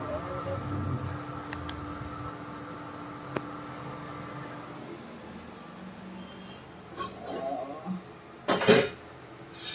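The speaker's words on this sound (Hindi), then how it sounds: "इसमें बर्तन पड़े हैं, ये दो इनको साफ करना पड़ेगा।" Dishes and utensils clatter in a home kitchen sink, with steady low running noise and scattered clinks building to a louder burst of metal and glass knocking near the end.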